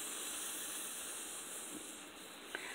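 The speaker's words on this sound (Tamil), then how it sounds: "சாம்பார் கொதிக்குது" A steady broadband hiss of a pot of sambar boiling on the stove, continuous and fairly close, with a faint bubbling texture and no voices.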